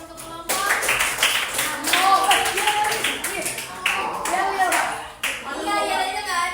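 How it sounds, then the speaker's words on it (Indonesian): A classroom gives a group a round of applause, loud, close hand clapping sustained for several seconds, with children's voices chattering and calling out over it. "Kita kasih tepuk tangan untuk kelompok"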